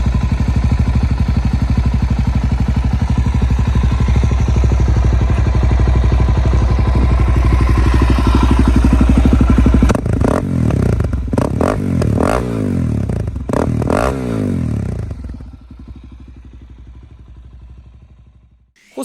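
A DRZ 400SM supermoto motorcycle with a single-cylinder engine runs at a loud, steady idle rumble, then blips through several sharp revs with mechanical clatter before the engine note dies away.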